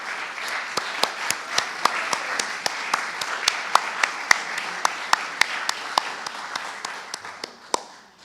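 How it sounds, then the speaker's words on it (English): Members at an annual association program applaud the pledgers in gratitude, steady crowd clapping with distinct, regularly spaced sharp claps standing out near the front, gradually thinning toward the end. "so we can give them a round of applause in gratitude"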